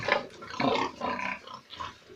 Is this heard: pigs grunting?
yes